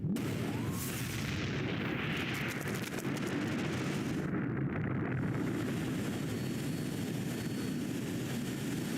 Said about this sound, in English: Once again, our character survives a galactic explosion